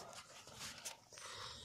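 A dog pants close by, with quick breathy puffs and a snort or two in a faint, hissy stretch.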